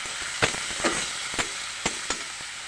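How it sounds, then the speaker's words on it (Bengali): Fish fries in a pan while being stirred, a hissing sizzle punctuated by about five sharp scraping taps of the spoon at uneven intervals. "মাছটা দিয়ে 2-1 মিনিট একটু নাড়িয়ে করে নেব"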